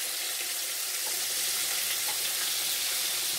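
Chicken sizzling in hot oil in a pot, a dense, steady crackle of frying that runs unbroken throughout, close and fairly quiet, with no talking.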